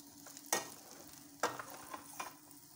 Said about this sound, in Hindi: थोड़ा और इसको कड़छी से हिला लेते हैं मसाला मिक्स हो जाएगा अच्छी तरह से